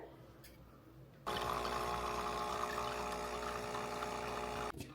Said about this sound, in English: we're gonna pour our shot directly over this